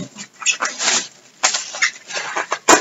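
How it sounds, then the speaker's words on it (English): Bubble wrap from a clothing haul package being handled up close: loud crinkling, rustling bursts that come and go in uneven waves, with a sharp crackle near the end. "Tons of bubble wrap."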